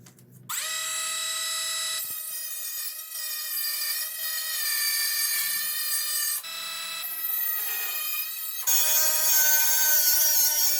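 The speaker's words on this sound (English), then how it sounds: "I'm cutting the USDM Integra to match the JDM so that the JDM headlights would fit." A tool cuts through the front body panel of a USDM Acura Integra being trimmed for JDM headlights, making a loud, sustained, tonal metallic whine that continues in several long passes with brief shifts in pitch between them.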